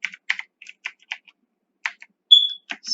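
Keys on a computer keyboard tapped in short irregular bursts of crisp clicks, close and clear, with a brief electronic tone near the end.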